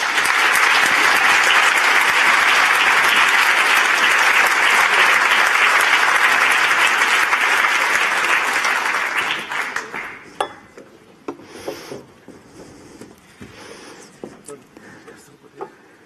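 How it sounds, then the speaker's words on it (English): An audience applauds Danish cartoonist Kurt Westergaard at a press freedom lecture, a dense, sustained roar of clapping for about ten seconds that then thins to scattered claps and quiet room noise. "Can I have a big applause again for Kurt Westergaard?"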